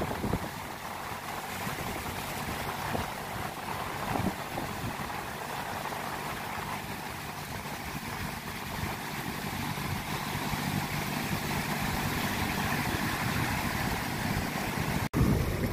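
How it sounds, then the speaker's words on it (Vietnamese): A small boat motors toward shore along the rocky coast at Ho Tram at low tide, its steady low engine hum blending with wind and surf, fairly faint and continuous. "Lại có ghe nhỏ đang trên hướng về bến bờ."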